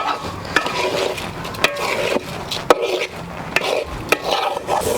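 Rice and dal being fried with spiced vegetables in a pan for temple-style vegetarian khichuri, a low sizzle under repeated sharp scrapes and knocks of a spoon stirring, close and steady.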